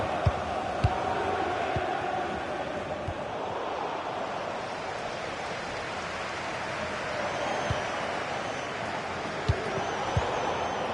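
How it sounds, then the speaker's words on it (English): A football video game stadium crowd roars as a steady, moderately loud wash of cheering and noise, with a few soft thumps scattered through it. "The crowd have really got behind them today."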